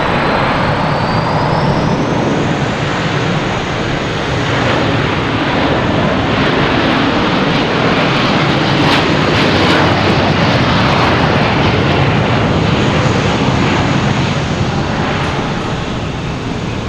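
An SAS airliner departing Boston Logan for Copenhagen gives a loud, continuous jet roar, broad and rumbling, with a faint rising turbine whine at the start, filling the whole stretch without talk.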